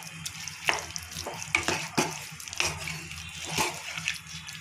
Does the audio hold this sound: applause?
no